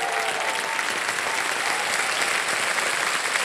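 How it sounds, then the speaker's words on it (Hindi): Studio audience applause on the Indian quiz show Kaun Banega Crorepati, a thick, sustained wash of clapping from many people, loud and steady from start to finish. "यहाँ पर जनता ने ताली बजाई आपके लिए और सबने स्वागत किया और अभी भी बजाते जा रहे हैं।"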